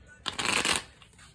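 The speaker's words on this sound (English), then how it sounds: "I'm going to go ahead and begin shuffling." A Cosmic Tarot card deck is shuffled once in a quick, crisp riffle lasting about half a second, close and fairly quiet, fading into soft room tone.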